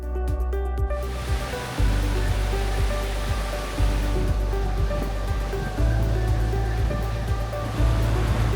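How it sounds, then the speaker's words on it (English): Linton Falls, a waterfall on a river in the Yorkshire Dales, gives a continuous loud rushing roar of tumbling water, steady and broad throughout with no other sounds. "stroll down to the river, where you'll discover the mesmerising Linton Falls"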